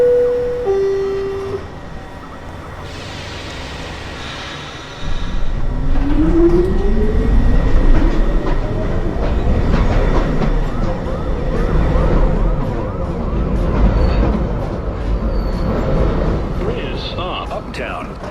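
A New York subway express train pulls into a station with a steady rumble and a rising electric motor whine, while automated announcements play over the noise.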